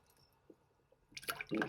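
Rain water runs into a toilet tank, faint drips at first and then a louder burst of splashing, gurgling fill near the end of the short moment.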